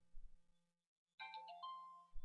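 A mobile phone ringtone rings out in a short melodic burst of bright electronic tones after a brief silence, fairly faint and picked up at a distance.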